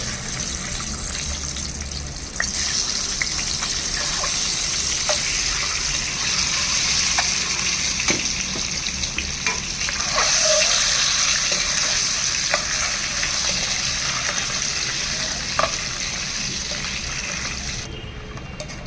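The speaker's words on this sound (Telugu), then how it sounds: "ఫ్లేమ్ సిమ్లోనే ఉంచి ఫ్రై చేయాలండి లేకపోతే ఈ గుడ్లు కళాయి కంటుకుంటాయి" Eggs fry in a kadai over a low simmer flame with a steady, close sizzle throughout, punctuated by occasional clicks and scrapes of stirring; no voices.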